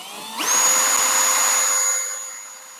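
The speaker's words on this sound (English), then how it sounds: "The other part was my drill wasn't totally charged." A power drill, not fully charged, spins up quickly to a high steady whine while boring a hole, then slowly winds down, close and alone.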